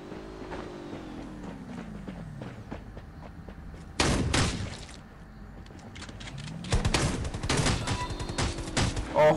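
Bursts of light machine gun fire in the Rules of Survival shooter game, loud repeated volleys with pauses between them and vehicle engine noise running underneath.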